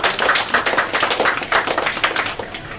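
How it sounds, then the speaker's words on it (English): A short round of applause from a modest audience at a DevSecOps meetup hosted in a hackerspace, brisk overlapping hand claps that stay steady and then gradually thin toward the end. "You can get a quick round of applause."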